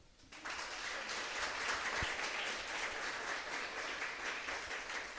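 Applause from a congregation at a preaching event starts quickly and settles into a sustained, dense wash of many hands clapping, steady and somewhat distant, with no talk over it.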